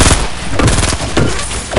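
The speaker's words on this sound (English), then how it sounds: "someone's shooting at me from behind" Gunfire from behind during a 50-versus-50 shooter game fight: loud, dense bursts of shots crackling continuously with heavy thuds, close and unbroken for the whole moment.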